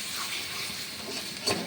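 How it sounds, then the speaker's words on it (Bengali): Spice paste for egg curry frying in a pan, a steady faint hiss of sizzling oil over less than two seconds, with no talking. "আমি মশলাটাকে ভালো করে কষিয়ে নেব"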